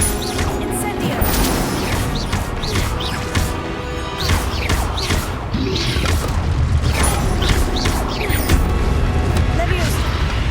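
Fire spell casting in Hogwarts Legacy during combat against brutes, bursts of whooshing and crackling impacts mixed with repeated hits and clashes, sounding close and busy under game noise.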